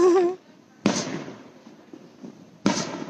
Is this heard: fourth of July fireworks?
yes